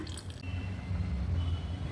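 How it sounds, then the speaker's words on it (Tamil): Water pours into a saucepan holding jaggery: a brief trickling splash at first, then a low, quiet liquid churn and settling gurgle, faint and close, with no voices. "அரை டம்ளர் தண்ணி சேர்த்துக்கிட்டு இதை கரைச்சி எடுத்துக்கலாங்க"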